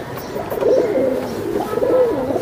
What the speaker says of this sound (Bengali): এই যে দেখেন দর্শক, দুইটা কবুতর ভাই অস্থির অস্থির।